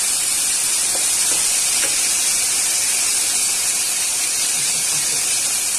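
Chopped tomatoes tipped into onions frying in a pan for kadai paneer, a loud, steady broadband sizzle that fills the whole stretch, close and continuous with no talking.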